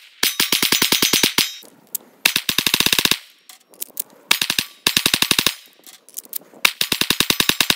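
A Taurus G3C pistol fires during a torture test in rapid, loud, close strings of sharp shots, broken by short pauses and a few single rounds.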